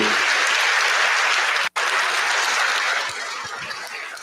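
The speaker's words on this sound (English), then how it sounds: "Can we get one more round of applause for him, please?" Loud, sustained audience applause fills a high school gathering after a speaker's talk, with a brief pause before the clapping continues at a slightly lower level.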